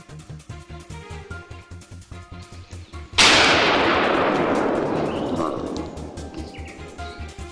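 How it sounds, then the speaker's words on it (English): A single loud rifle shot cracks out in a forest and rolls away in a long echoing decay, following a steady rhythmic chugging in the background. "The crack of gunfire rang through the forest"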